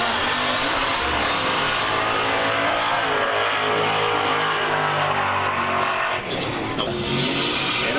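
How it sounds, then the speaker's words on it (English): A Mustang drag car launching off the starting line at a drag racing event: a loud, sustained engine roar that drones on steadily, dips briefly, then continues at full power. "And away we go off the starting line, the Mustang."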